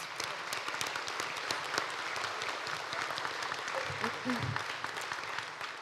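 A school scholarship night audience claps steadily for scholarship donors, a dense, continuous applause heard from within the hall, with a voice speaking briefly beneath it.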